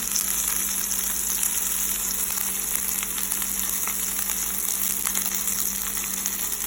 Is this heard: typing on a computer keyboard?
no